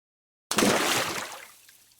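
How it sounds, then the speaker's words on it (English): A turtle plunges into water with a single sudden, close splash that bursts out of silence, then washes and sloshes away as it fades over about a second. "Splash!"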